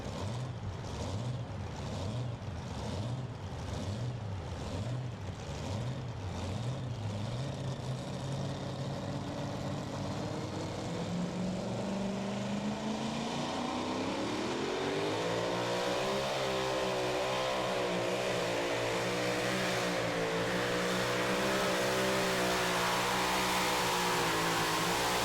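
A super modified two-wheel-drive Dodge Dakota pulling truck from Dry Ridge, Kentucky makes its run, its engine throbbing rhythmically at first, then climbing into a sustained, loud, straining roar that holds to the end.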